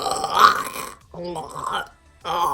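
A person burps deliberately while working through the Spanish alphabet, giving a loud, rough eructation at the start, then two shorter voiced, belch-like bursts after brief pauses, all close to the microphone.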